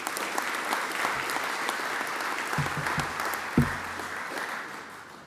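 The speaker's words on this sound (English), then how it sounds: "A round of applause" Audience applause at an agribusiness industry showcase, a steady wash of clapping from a room full of people that continues evenly from start to finish.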